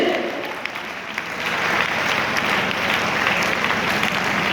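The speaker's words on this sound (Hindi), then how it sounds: "तालियां जोरदार होनी चाहिए।" Steady applause from a crowd at a business meeting, dense clapping holding at an even level for the whole stretch with no clear talk over it.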